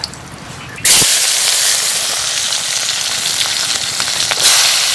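Chopped onion, green and dried chilies and garlic hit a hot pan and burst into a loud, close, bright sizzle that holds steadily, swelling a little again toward the end.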